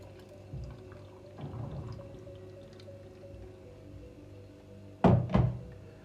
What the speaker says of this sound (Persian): آب جوش رو ریختیم.